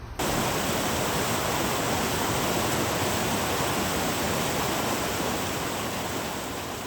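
Creek water rushes beside a woodland hiking trail in Rocky Mountain National Park, a steady, loud, broadband roar of flowing water that holds constant with no voices.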